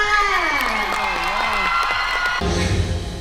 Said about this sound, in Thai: ขอเสียงปรบมือให้กับคุณลี่ทอค่ะ